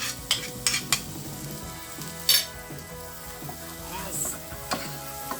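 Chopped onion frying in a pan for a creamy chicken fricassee, a steady close sizzle with a few clicks and scrapes of stirring and utensils against the pan.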